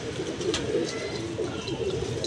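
Pigeons coo near a loft, a continuous, gentle layered cooing with a few brief chirpy accents, close by and moderately loud.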